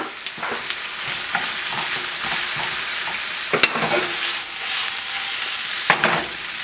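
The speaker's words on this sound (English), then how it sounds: "Alright, now let's add our jalapenos right on in there." Jalapenos and butternut squash sizzle steadily in a hot pan with a continuous hiss, broken by a few sharper crackles and stirring clatters, no voices.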